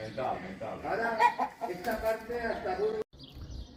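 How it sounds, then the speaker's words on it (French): Hens cluck and chatter nearby in uneven bursts, a busy flock of hens and roosters that cuts off abruptly near the end. "il y a des coqs et des poules"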